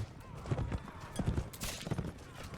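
A horse gallops in the video game Mount & Blade: With Fire and Sword, with rhythmic clip-clop hoofbeats in quick repeated bursts amid battle ambience.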